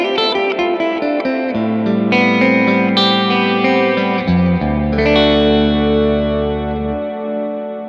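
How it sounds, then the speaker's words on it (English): Wampler Ethereal delay and reverb pedal set to plate reverb on an electric guitar: sustained, distorted chords ring out with a thick, shimmering reverb wash that fills the whole passage and stays loud throughout. "the reverb is of the plate reverb type"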